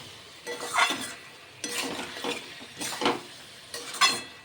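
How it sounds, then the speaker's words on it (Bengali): Fried cauliflower is tossed into a spice masala in a pan for chilli fulkopi, giving several short bursts of sizzling and clinking stirring against the pot, close and moderately quiet. "এবার দিয়ে দিলাম ভেজে রাখা ফুলকপিগুলো।"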